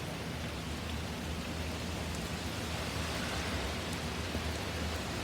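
Heavy rain and strong wind as a storm sweeps past outdoors, a dense, steady roar of rain and gusts that never lets up, with no voices.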